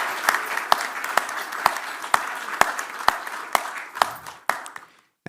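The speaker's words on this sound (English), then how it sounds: "A huge round of applause for him." Audience applause at a pickleball world rankings launch event, a steady wash of clapping with sharp louder claps standing out, sustained for several seconds before cutting off abruptly.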